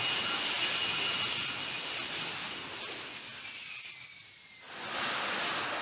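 An AV-8B Harrier II jet engine roars steadily during a vertical takeoff over water, a loud, dense, hissing blast that dips briefly and then surges back to full strength.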